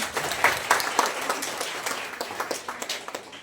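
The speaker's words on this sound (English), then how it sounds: "we should give her a big round of applause to her" Audience applause at a health awareness talk on self-breast examination for International Women's Day, a steady patter of many hands clapping for a few seconds in a hall, with no talk over it.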